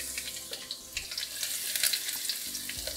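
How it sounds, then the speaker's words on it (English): Chopped garlic frying in hot oil with mustard and cumin seeds, a steady bright sizzle with light crackling and occasional stirring scrapes, close up and without voices. "We'll fry the garlic till it's nice and golden brown in color and also crispy."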